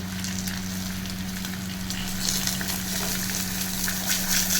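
Steady crackling sizzle of an egg frying in a kadai, continuous and close, with a low constant hum underneath and no voices.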